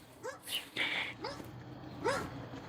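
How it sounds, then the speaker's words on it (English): A neighbor's dog in Texas yelps and whines several times in short, high, separated bursts, heard indoors against the steady hum of an air conditioner. "you can hear our neighbor dog"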